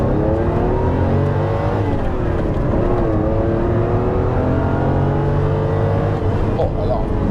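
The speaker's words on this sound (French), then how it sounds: "Je vous fais une petite accélération, c'est trop kiffant." Ferrari Testarossa flat-twelve engine revving hard under acceleration from inside the car, a loud continuous roar with rising and falling pitch as it pulls through the revs.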